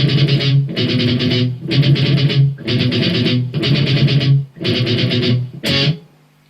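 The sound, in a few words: electric guitar with distortion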